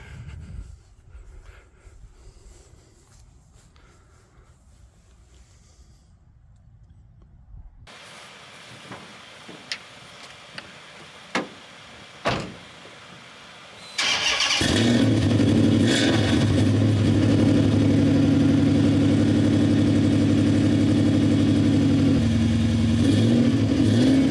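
A project car's engine cranks briefly with a few sharp clicks, then catches and settles into a loud, steady idle with a continuous low rumble that runs to the end.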